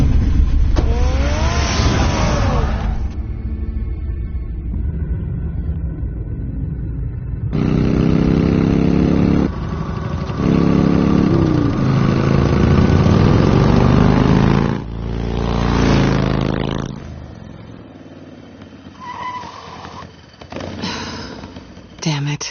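Car engine in the Batman Telltale Series video game, a steady mid-level drone with rising revs in several bursts, heard beneath talking voices and music throughout.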